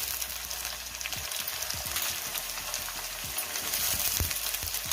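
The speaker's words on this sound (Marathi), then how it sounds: "अशा प्रकारे जर भाज्या परतल्या तर शिजायला पटकन मदत होते" Potato, brinjal and pumpkin pieces sautéing in a pan, a steady close sizzle and crackle with occasional stirring scrapes, no voices over it.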